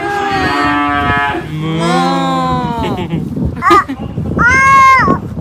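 A cow moos loudly and close by in drawn-out calls at the start and again later, with people talking around it.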